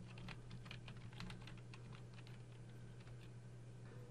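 Fingers type on a computer keyboard while writing HTML and CSS code, a quiet, quick patter of key clicks in uneven bursts over a low steady hum, with no talk.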